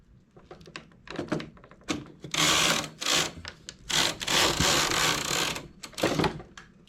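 A knitting machine carriage is pushed slowly across a row, giving bursts of sliding, rasping clatter in several passes with clicks and knocks between them, close and loud.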